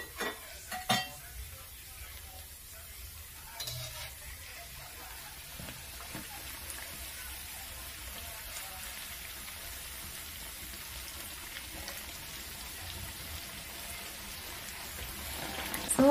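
Homemade glazed donuts fry in hot oil over low heat, giving a continuous faint crackling sizzle like light rain, with a few soft clinks of a utensil against the pan.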